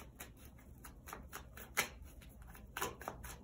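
Tarot cards riffled and shuffled by hand, a quiet run of crisp papery flutters with a few sharper snaps, close and alone without talk.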